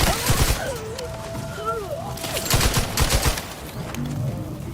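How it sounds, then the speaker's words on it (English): Gunfire rattles in The Outer Worlds 2 in clustered bursts of rapid shots, loud and close, with synthetic game tones and a talking voice mixed in. "Who the hell else is shooting at me?"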